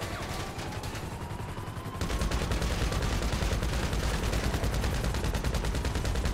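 Gunfire in Grand Theft Auto V Online during the Cayo Perico Heist prep with a stealth helicopter: fast, continuous automatic shots over a steady droning engine, growing louder after a couple of seconds.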